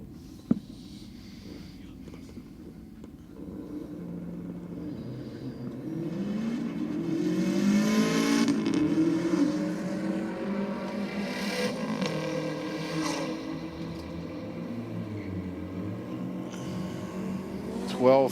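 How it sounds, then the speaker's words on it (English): A BMW drag car launching down the strip at Sydney Dragway on a diesel-theme race night, its engine note rising and swelling into a long, loud roar that holds, then fades as it pulls away. "Got the BMW down in the Aeroflow lane up against the Rexy."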